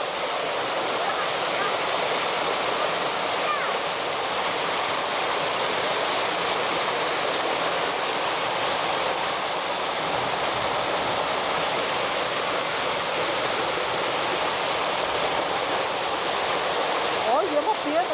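Floodwater after heavy rain rushes through town streets that have turned into rivers, carrying stones and mud, a loud, unbroken roar of churning water that fills the whole stretch.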